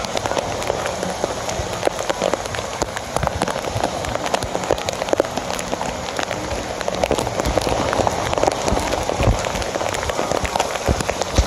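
Heavy rain shower pours down steadily at a beach, a dense hiss of drops striking the surface with scattered louder splashes, continuous and close throughout.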